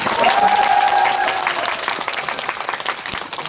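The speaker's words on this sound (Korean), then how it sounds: "배성우 배우님의 매력을 발견하셨다면 박수" Audience at a live talk event for the film The King applauds the actors, a loud burst of clapping with a brief vocal tone at the start that gradually thins out.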